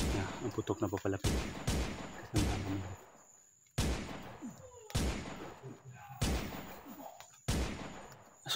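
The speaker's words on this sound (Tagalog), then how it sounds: "Ang putok na papalapit." Repeated loud gunshots crack out every second or so, each with a sharp onset and trailing echo, with a voice heard between some shots.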